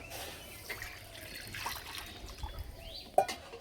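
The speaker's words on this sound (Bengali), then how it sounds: "কড়াইয়ে দেবো 1 লিটার গরুর দুধ।" One liter of cow's milk trickles and splashes into a wok for rasmalai, a quiet, close pour with soft liquid dribbling and a brief sharper splash near the end.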